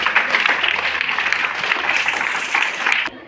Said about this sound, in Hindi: उस माँ के लिए फिर जोरदार ताली बजाइए।